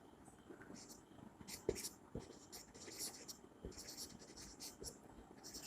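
Pen or chalk scratches out a maths solution in short strokes and taps, quiet and close, with a soft voice speaking in the background.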